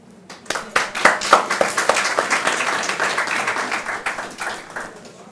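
An audience at a televised discussion forum breaks into applause, starting with a few scattered claps that swell into a dense, sustained burst of many hands, then slowly tapers off.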